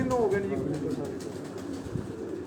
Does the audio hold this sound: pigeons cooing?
yes